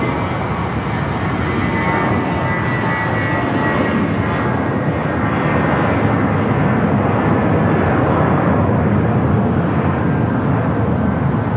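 An American Airlines jet departing LAX for Mexico City gives a loud, continuous engine roar that holds steady and near throughout.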